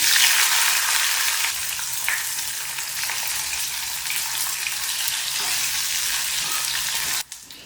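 Mustard seeds, chana and urad dal, shallots and green chili fry in hot coconut oil in a kadai, a loud steady broadband sizzle with faint crackles running throughout, ending in a brief scrape just before the close.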